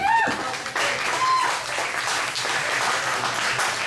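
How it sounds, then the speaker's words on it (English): Comedy club audience applauding a stand-up set, a steady wash of many hands clapping at close range for several seconds with a brief voice at the start. "Round of applause for you guys."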